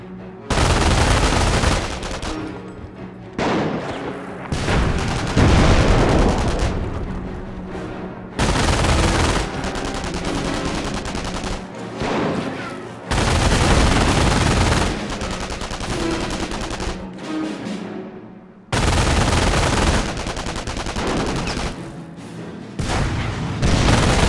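Gunfire and explosions in a Company of Heroes Mobile battle: loud bursts of rifle and machine-gun fire with heavy booms, coming in dense volleys broken by short gaps.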